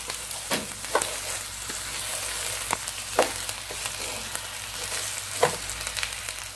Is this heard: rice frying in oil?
yes